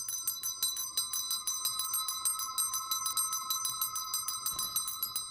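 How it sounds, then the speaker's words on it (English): A bell rings in rapid repeated strikes from a doorbell at Scrooge's house in The Muppet Christmas Carol, a bright, steady metallic jangle that carries on without pause under no talk. "Is that his doorbell or something?"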